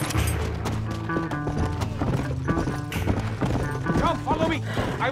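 A horse galloping in Red Dead Redemption, steady rhythmic hoofbeats with an occasional whinny, heard up close over music and game sounds, with voices speaking throughout.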